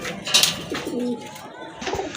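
A pair of light-coloured pigeons coo in short, soft bursts close by, with brief rustling between calls and no talking.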